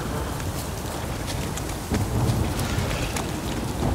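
Steady rain falls in The Witcher 3 video game, a dense continuous hiss of drops on surfaces that swells slightly louder midway, with no voices over it.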